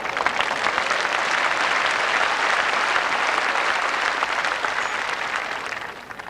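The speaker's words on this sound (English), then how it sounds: "More applause there from the crowd at the side of the green" Steady, dense clapping from a large crowd beside the green at the 1984 World Lawn Bowls Singles Final, sustained throughout and fading slightly at the end.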